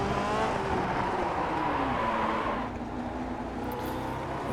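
Lotus 49 race car engine in the iRacing sim at Suzuka, a loud, continuous high-revving engine whose pitch rises and falls as the car nearly spins and recovers, with faint tire noise underneath.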